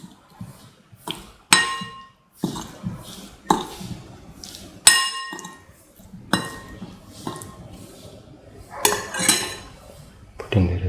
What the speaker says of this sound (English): Put in the cottage cheese pieces or paneer pieces into the mixture and mix thoroughly.